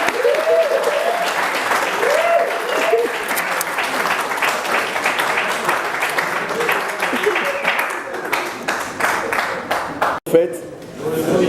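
A crowd applauding at a May Day workers' day ceremony, sustained dense clapping from many hands, loud and steady, with some voices mixed in before it thins near the end.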